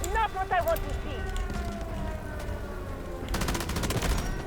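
Rapid bursts from an M249 light machine gun in the shooter Delta Force, a dense run of shots near the end over steady game noise and voices.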